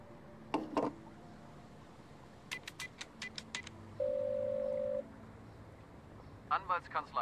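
Telephone keypad tones and a steady dial tone: a few scattered beeps, then a quick run of dialing tones, a one-second held tone, and more tones near the end, with faint background sound between.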